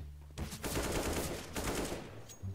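Rapid automatic gunfire in a competitive shooter game, two sustained bursts with a brief break between them, loud and close, with no talking over it.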